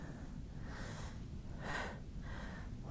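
Breathing during a Pilates crisscross mat exercise: several soft, airy breaths rise and fall in a slow rhythm, close to the listener, with one stronger breath near the middle.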